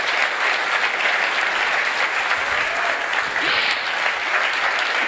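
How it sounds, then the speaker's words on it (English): Sustained audience applause at the live launch of the 2022 Alpine A522 Formula 1 car, a dense, loud wash of clapping from a large crowd that continues steadily throughout. "Please applause for those incredible drivers."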